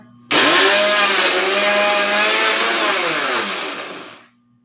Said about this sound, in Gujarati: આપણે આ રીતે તરબૂચ છે તેનો જ્યુસ નીકાળી લેશું મિક્સરમાં